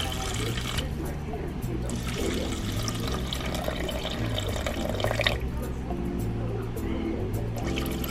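Steady running water pours and splashes into an Aroma ARC-1120SBL rice cooker pot nearby, a continuous gurgling stream that persists for several seconds.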